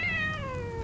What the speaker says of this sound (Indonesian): kucing kampung, kucing dom.